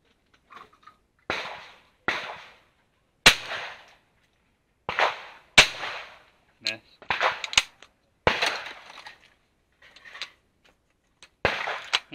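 Browning B525 over-and-under shotgun fired at clay targets on a shooting ground, with a series of sharp, loud reports spaced irregularly over several seconds, often in quick pairs, against a quiet background.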